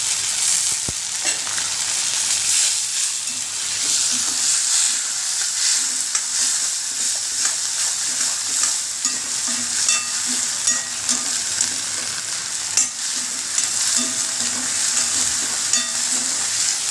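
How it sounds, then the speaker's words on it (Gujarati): Chopped onions and tomatoes sautéing in a pan for restaurant-style dal fry make a continuous close sizzle, broken by repeated scraping strokes of a spoon stirring, with no voices. "ડુંગળીનો આછો ગુલાબી કલર થાય ત્યાં સુધી સાતળવાની છે અને પછી આપણે આમાં ટમેટાં ઉમેરવાના છે"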